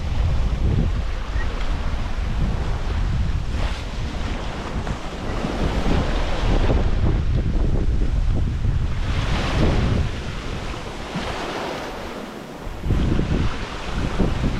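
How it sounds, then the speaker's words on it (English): Steady wind roar and washing sea surf while sailing down the north coast of Lanzarote in a breeze, loud and continuous with gusts buffeting the microphone and waves sloshing against the hull. "So I've got a nice breeze and we're running down the coast"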